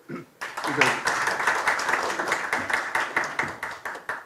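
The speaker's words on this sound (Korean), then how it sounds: "박수 한번 주십시오" Applause at the opening of the 113th Asia Forum policy debate for the Dalseong County governor in Daegu, a dense crowd of clapping running steadily from start to finish with uneven swells, fairly close and loud.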